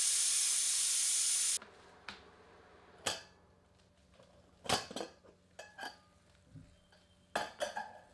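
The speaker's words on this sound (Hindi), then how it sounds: "प्रेशर कुकर को भाप मुक्त करके ढक्कन हटा लेते हैं।" Steam rushing out of a pressure cooker in a loud hiss that cuts off abruptly, followed by scattered metallic clanks and knocks as the lid is taken off and handled.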